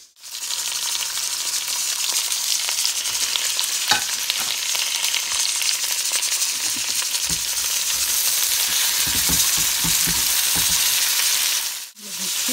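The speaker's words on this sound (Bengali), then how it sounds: "2টি টমেটো আমি কেটে নিয়েছি, এখন আমি এটাকে স্পাইসের ভিতরে দিয়ে দেবো" Chopped tomatoes hit hot spiced oil for Afghani Kabuli pulao, setting off a loud, dense, continuous sizzle close up that runs almost unbroken, with a few clanks of stirring, then a brief break near the end.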